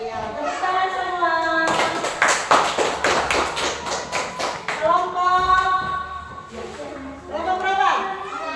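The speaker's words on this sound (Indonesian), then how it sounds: "Ya, tepuk tangan semua." A classroom of students clapping their hands together in a burst of quick, sharp claps lasting a few seconds, framed by a teacher speaking before and after.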